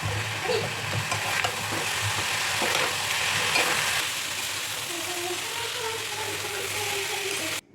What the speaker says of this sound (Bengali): ডিম দেওয়ার পরে এখন আমি ডিমটাকে নেড়ে চেড়ে মিক্স করে নিচ্ছি।